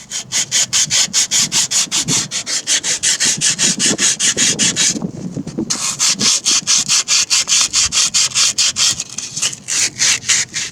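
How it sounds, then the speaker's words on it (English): Rhythmic back-and-forth scraping of sandpaper on a metal bearing seal seat, loud and close, in steady rapid strokes with a brief pause midway. "So I took the sandpaper and cleaned up this area where the seal goes"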